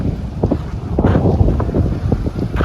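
Strong wind buffets the microphone at a Kruger National Park campsite, producing a loud, continuous roar with gusty surges throughout.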